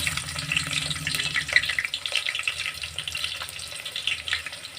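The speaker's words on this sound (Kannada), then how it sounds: "ಎಣ್ಣೆ ಕಾದಿದೆ ಸೊ ಇದಕ್ಕೆ ಈರುಳ್ಳಿ ಹಾಕ್ಕೊಳ್ಳೋಣ" Onions drop into hot oil in a pan for a green chilli chicken gravy, giving a close, steady sizzle and crackle that fades slightly over a few seconds.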